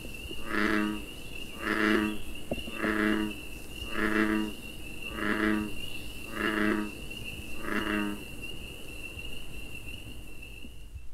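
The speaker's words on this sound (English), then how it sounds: "The voice of this frog is a low-pitched drone." An American bullfrog in Florida gives seven evenly spaced, low, moo-like calls against a steady high insect trill.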